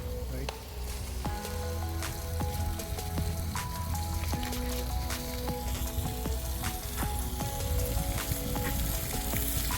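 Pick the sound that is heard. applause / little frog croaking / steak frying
steak frying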